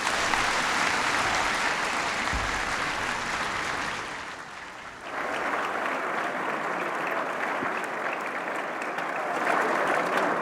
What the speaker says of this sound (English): give Toya another round of applause